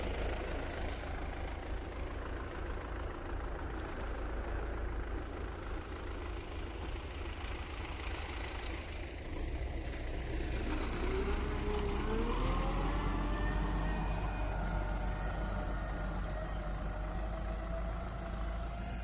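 An MTZ tractor pulling a Simulta 2500 seeder with a roller across wet field ground makes a low, constant engine rumble with rattling, and a higher whine climbs briefly near the middle.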